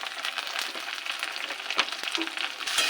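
Salt, turmeric and cumin are mixed into chicken in a hot pan, with a constant close sizzle and a few light scrapes of the stirring spoon. No one speaks.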